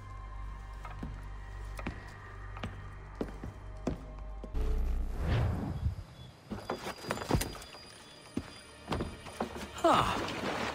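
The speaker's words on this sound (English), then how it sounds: "They've only left a single horse." In the Assassin's Creed III video game, a horse's hooves clop in a regular rhythm, then heavier thuds and movement follow along with a neigh near the end, fairly close and loud.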